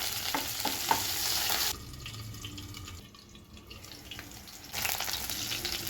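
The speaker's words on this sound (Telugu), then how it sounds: "నూనె పోసుకొని, నూనె వేడైంది, పచ్చిమిరపకాయ ముక్కలు వేసుకోవాలి" Green chilli pieces frying in hot oil, a close sizzle with brief stirring clatter that drops quieter midway, then the sizzle swells again toward the end.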